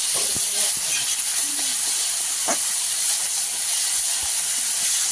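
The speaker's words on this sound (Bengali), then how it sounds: "প্রচুর আগুন জ্বলছে।" Under a loud fire, a clay stove gives off a steady, roaring hiss that fills the whole stretch, with a few faint clicks and a short crackle over it.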